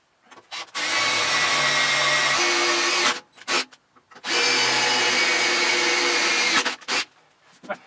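A power drill with a tap on its end whines loudly in two long runs of about two seconds each, threading sheet metal for a compressed-air line, separated by brief pauses, close up.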